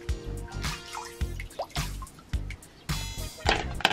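Water drips and trickles into the basin of a village fountain, a steady irregular patter of close, fairly loud drops with no talk over it.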